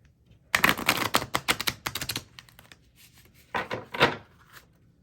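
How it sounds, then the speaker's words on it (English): Angel Abundance oracle cards shuffled and drawn from a deck, giving a close, fast flurry of papery riffling clicks that pauses and then returns in a second shorter burst, with no talking. "let's go ahead and draw a few of these Angel Abundance cards"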